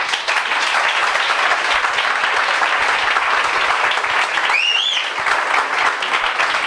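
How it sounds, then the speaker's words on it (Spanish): Sustained applause from a lecture audience welcoming a speaker, a dense, loud, steady wash of clapping that carries through the whole stretch, with a brief whistle near the end. "un aplauso para él"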